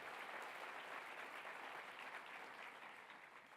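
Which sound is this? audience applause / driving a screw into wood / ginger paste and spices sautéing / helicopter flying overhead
audience applause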